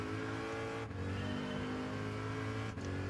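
A Corvette engine in Gran Turismo 7 roars at high RPM down a straight on the Daytona road course, a loud continuous drone with two brief dips where the gears shift.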